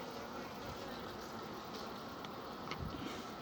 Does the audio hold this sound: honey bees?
yes